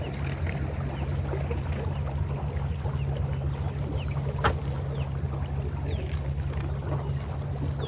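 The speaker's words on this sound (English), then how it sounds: "Let's see a little cavitation action. Or hear it, rather." A mini boat motor cavitates on open water near a shoreline, giving a steady churning, gurgling drone that runs the whole time at an even level, with water noise all around.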